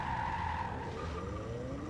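A car over-rotates and stalls during drift practice, its tires squealing near at hand with a falling engine tone over a short stretch.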